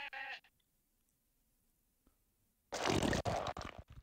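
A sheep bleats in The Neverhood video game, a short nasal cry at the start followed by quiet, then a loud burst of noisy game sound.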